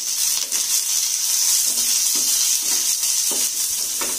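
Onions, cashews, garlic and green chillies fry in a pan for restaurant-style soya chaap masala, a steady loud sizzle with occasional stirring scrapes throughout.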